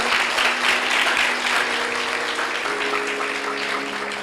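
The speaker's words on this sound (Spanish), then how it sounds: "Fuerte ese aplauso para el Señor." Loud, dense applause from a church congregation praising the Lord, a steady wash of clapping close up with a faint sustained tone beneath it, fading slightly toward the end.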